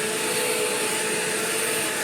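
A Bissell CleanView upright vacuum cleaner runs at a constant level, a loud steady whine and rushing airflow with a faint tonal hum, no speech over it.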